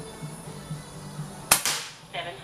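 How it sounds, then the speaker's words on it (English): A BSA Goldstar SE air rifle fires one sharp, close crack with a short tail, then a softer thud follows, heard over faint background hiss with no talking. "Very enjoyable rifle to shoot."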